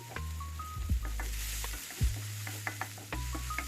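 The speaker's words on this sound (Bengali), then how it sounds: "জিরা আর পেঁয়াজগুলোকে আরও কিছুক্ষণ ভেজে নিচ্ছি" Onions and whole cumin seeds frying in a pan, a continuous crackling sizzle with stirring scrapes and occasional knocks of a utensil, close and alone with no talking.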